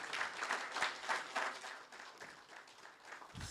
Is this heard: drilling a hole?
no